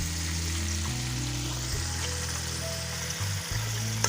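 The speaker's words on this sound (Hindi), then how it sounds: "ऑयल गरम हो गया। अब इसमें प्याज शामिल कर दूँ।" Onions going into hot oil for a potato and capsicum curry, sizzling and frying with a steady, dense crackle that runs unbroken and fairly loud throughout, with no talking.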